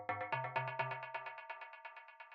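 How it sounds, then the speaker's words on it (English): A short FM synth stab for dark techno repeats rapidly in a bright metallic rhythmic pattern, dry and alone, gradually fading with the low end dropping away. "The next thing that we have here is this little FM stab,"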